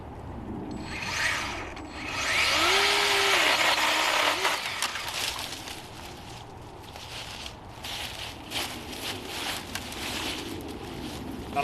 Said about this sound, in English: I would rather have a chainsaw to do this